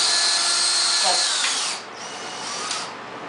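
A power drill whines as it drives a screw into a drywall ceiling, then pitches down and stops before a second short burst; the sound is close and loud.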